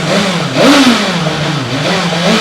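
A motorcycle fitted with a new muffler and silencer revs up close by in a short burst, rising and then settling back into a throaty mid-pitched idle.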